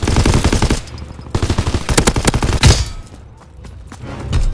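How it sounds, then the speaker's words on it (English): Anti-aircraft gunfire in a Call of Duty WWII multiplayer match, rapid heavy bursts of loud thumping shots in quick rhythm, then a pause and more firing, close and dominant with no speech. "Enemy anti-aircraft fire!"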